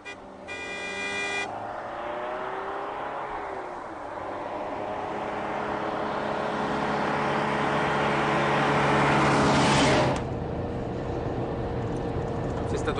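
A car drives along with a continuous engine drone and road rumble that slowly swells and then eases. A brief horn toot sounds at the start, a whoosh passes near the end, and voices speak over the engine.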